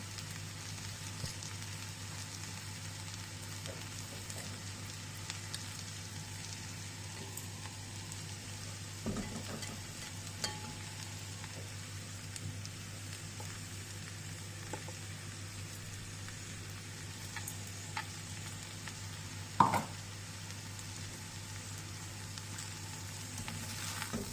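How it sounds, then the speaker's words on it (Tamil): Ivy gourd (kovakkai) frying in a pan for a fry dish, a faint, continuous sizzle with a few soft clicks and knocks from stirring. "இப்போ நம்மளோட கோவக்காய் நல்லா ஃப்ரை ஆயிடுச்சு"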